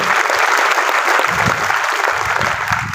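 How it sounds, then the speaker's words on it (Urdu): Audience clapping loudly to encourage children at a Quran conference at AMU, dense continuous applause filling the hall for about three seconds. "ایک بار اور زوردار تالیاں بجا کر ان بچوں کی حوصلہ افزائی کیجیے"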